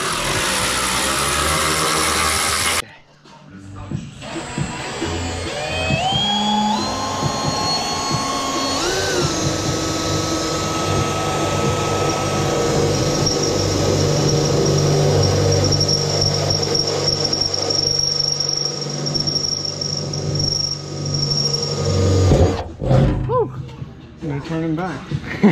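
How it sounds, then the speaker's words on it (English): A power tool whines and grinds while cutting holes in a Jeep Cherokee XJ fender to fit a snorkel, a loud rising and falling high-pitched drilling sound with a break partway through. "Cutting holes in the fender, making everything line up."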